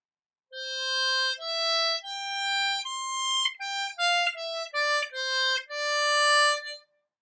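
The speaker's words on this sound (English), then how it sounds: "I'm on a C harmonica." A C harmonica plays the opening line of a song: clear, sustained single notes in a slow phrase, a couple briefly bent or wavering, played alone without accompaniment.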